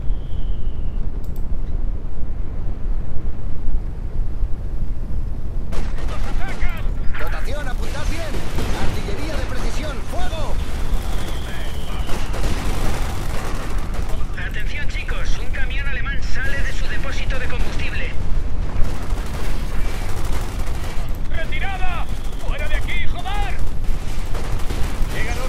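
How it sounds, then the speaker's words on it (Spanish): Rapid machine gun bursts and scattered gunfire crackle through a Company of Heroes 2 battle with American troops, dense and loud, mixed with explosions and game effects while someone talks over the action. "Todos con ametralladoras."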